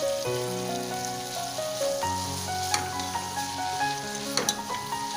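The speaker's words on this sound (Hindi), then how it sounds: "अब हम इसमें हमारे पास रह गया हमारा टमाटर, अब हम वो डाल देंगे।" Chopped tomatoes tipped into a pan of hot vegetables while cooking spaghetti, giving a steady crackling sizzle throughout, set under soft background music.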